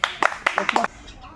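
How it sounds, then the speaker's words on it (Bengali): A short burst of applause for a child who won a one-rupee prize game, several quick claps in a small group, close and lively, ending abruptly into quiet room tone. "একটু ওর জন্য হাততালি দেবে"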